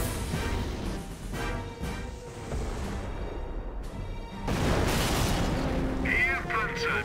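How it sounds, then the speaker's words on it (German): Artillery fire and explosions in the World War II strategy game Company of Heroes 2, with heavy booms and crashing blasts rolling through a dense battle mix that grows louder partway through, while voices speak over it. "Stehen unter schwerem Beschuss."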